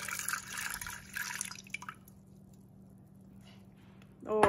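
A cup of water is poured into a mixing bowl for honey and butter bread dough, a brief close splash and trickle that fades to quiet room tone, with a sharp clink near the end.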